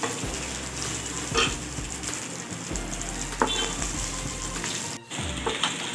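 Green chillies crackle and sizzle in hot oil, close and steady, with scattered pops and a few clinks of the spoon turning them over.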